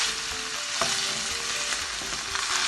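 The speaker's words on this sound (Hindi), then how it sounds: "जी तो देखें चिकन हो चुका है फ्राई" Chicken frying in a pan, a loud steady sizzle close up with a few clinks of utensils and no talking.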